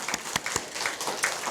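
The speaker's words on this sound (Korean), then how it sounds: "우리 하나님께 영광의 박수를 또 우리 아이들에게는 감사의 박수 드리겠습니다" A church congregation applauding during a Children's Sunday worship service, a brisk burst of many hands clapping at moderate volume, irregular and sustained for a moment.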